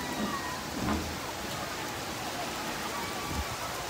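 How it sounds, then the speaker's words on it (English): Heavy rain falling outdoors on Menorca, Spain, a steady dense hiss of downpour with low rumbling patches, fairly distant and continuous throughout. "we were not expecting this kind of rain"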